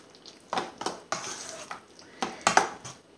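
Chopped salmon pieces stirred in a bowl with a utensil, a series of soft scraping and clinking strokes at an irregular rhythm, close and fairly quiet, with no talking.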